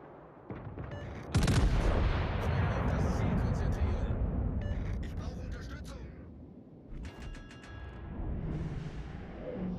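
Battleship main guns boom in World of Warships: Legends, one heavy salvo landing near the start and then a long rumbling tail of gunfire and explosions, with a voice speaking over the battle.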